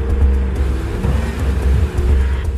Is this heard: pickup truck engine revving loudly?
yes